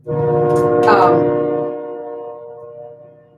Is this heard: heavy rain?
no